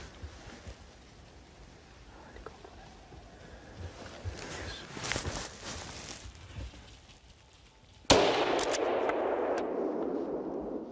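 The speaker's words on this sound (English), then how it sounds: "During only 6 seconds, he shoots 5 wild boars in the same number of shots." Rifle shots ring out in quick succession during a driven wild boar hunt in a forest, a few sharp cracks with the last one loudest and trailing into a long, decaying rumble.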